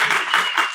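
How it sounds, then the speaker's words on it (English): An audience at a forum panel on nature conservation and land use claps to welcome a speaker, giving a brief burst of dense, even applause at moderate volume. "Round of applause for Paul."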